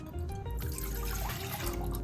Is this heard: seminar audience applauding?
no